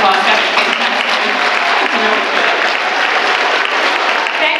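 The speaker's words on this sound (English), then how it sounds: "Can I have a round of applause?" A classroom audience gives loud, continuous applause after an orchestra ecosystem activity, a thick, even roar of many clapping hands that holds steady for the whole stretch.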